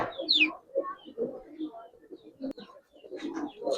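Old-breed Giribaz pigeons kept for sale cooing in soft, low murmuring bursts that rise and fall over a few seconds, close by, with a brief higher chirp near the start and light background voices.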